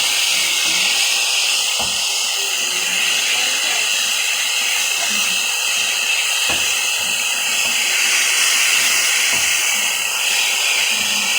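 Fresh portobello mushrooms cooking down in a pan make a loud, unbroken steamy hiss, with a few faint clicks spaced across it.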